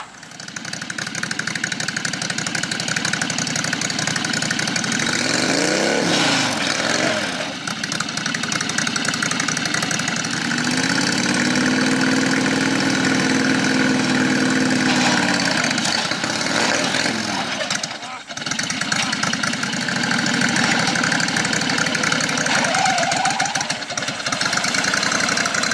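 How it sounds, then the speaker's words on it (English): A John Deere 214 garden tractor engine runs in second gear with a steady, loud, close chug that never stops, broken by a few brief dips and changes in load. "we're going to go ahead and do it with the John Deere 214, but we're going to switch it up"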